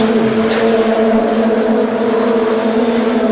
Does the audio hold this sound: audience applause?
no